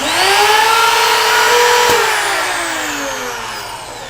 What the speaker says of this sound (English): There are two independent routers on each side of the machine that trim off the leading edge of the dovetail.